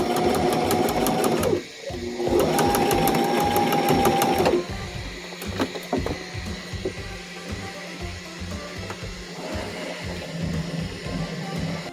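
Sewing machine stitching faux leather for a belt, running in two fast rattling bursts with a short pause between, then slower uneven stitching with thumps continuing to the end, close and steady.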